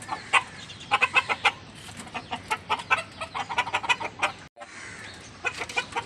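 Chickens cluck repeatedly on a hot rooftop, a close flock of short irregular calls rising and falling with brief pauses, without any talk.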